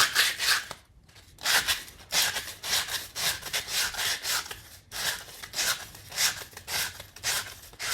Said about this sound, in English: let's do a little sanding in this ring. Just got some 220 sandpaper right here